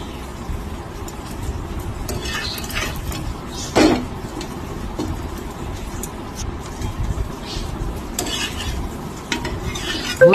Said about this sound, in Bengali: এবার বাটারটা দিয়ে মানে দুদিকে ভালো করে লাল করে ভাজতে হবে